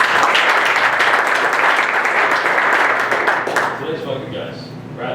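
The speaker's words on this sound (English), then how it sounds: "So give them all a round of applause as well" Loud, dense audience applause at an adult machine tool graduation ceremony, sustained for about three and a half seconds before tapering off into scattered claps.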